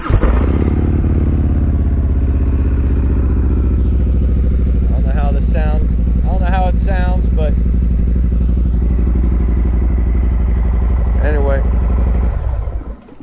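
A motorcycle engine starts and settles into a loud, steady, close idle with a throbbing rumble, a voice briefly talking over it before it cuts off at the end.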